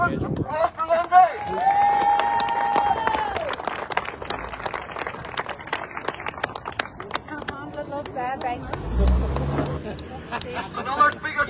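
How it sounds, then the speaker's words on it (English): A crowd at an outdoor peaceful demonstration clapping for a speaker, with a sustained burst of applause mixed with chatter and shouts, passing traffic noise around it and voices talking throughout. "big round of applause for Mr."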